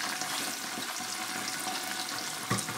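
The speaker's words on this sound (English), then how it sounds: "So I'm going to be stirring." Browned onions and tomato paste fry for egusi soup, a continuous dense sizzle with soft stirring scrapes throughout and one louder knock near the end.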